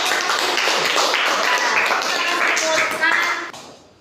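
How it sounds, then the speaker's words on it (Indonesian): Applause in a classroom, dense clapping from many students that fills the room, sustained for several seconds and then fading out. "terima kasih, tepuk tangan semuanya"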